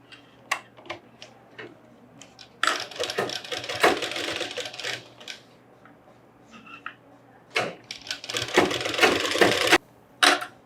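A sewing machine stitches a Pathani kurta in intermittent rattling bursts, some short and some running for a couple of seconds, separated by quiet pauses and small clicks.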